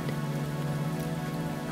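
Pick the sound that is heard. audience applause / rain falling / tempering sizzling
rain falling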